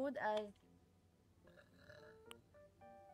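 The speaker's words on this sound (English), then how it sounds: "I haven't burped like that on stream." A loud, short belch opens the clip, followed by quiet background game music with soft chimes and tones.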